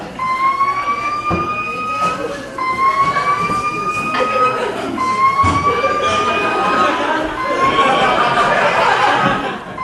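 A fire alarm sounding inside a comedy club on Times Square gives off repeated rising, siren-like whoops in a steady cycle. The tone is loud and fills the room, with faint voices underneath.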